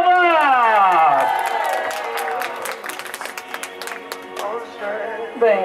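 Party guests at an 18th birthday celebration in Santo André break into loud, sustained applause and cheering, with excited voices and whoops rising over dense clapping that gradually thins out.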